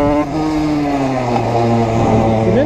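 A motorcycle engine pulls hard through a wheelie on a winding road, a steady close drone with gliding pitch that drops and then climbs again near the end, heard alone without talk.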